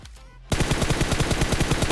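Rapid automatic gunfire erupts in a shooter video game after a brief quiet start, a loud, steady stream of closely spaced shots.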